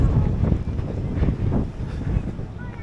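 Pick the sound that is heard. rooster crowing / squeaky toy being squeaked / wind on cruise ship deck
wind on cruise ship deck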